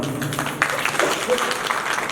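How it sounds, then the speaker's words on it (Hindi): A crowd at a Hindu devotional gathering applauds together, producing a dense, steady wash of clapping with voices murmuring underneath throughout. "ताली बजाएंगे एक बार"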